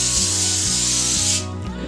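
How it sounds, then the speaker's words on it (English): Potatoes tossed in a bowl for a garlic chicken, potato and zucchini sheet pan dinner give a close, continuous rubbing and rustling, with a few soft bumps as the pieces shift before the sound thins out. "We're going to toss these around to thoroughly coat the potatoes."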